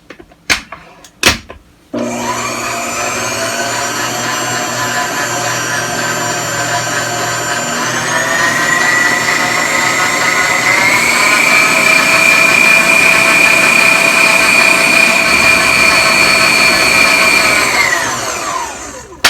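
A GeekChef 2.6 qt stand mixer kneads bread dough for Hawaiian rolls with its dough hook, a loud steady motor whine that rises in pitch partway through and then winds down, preceded by a few sharp knocks.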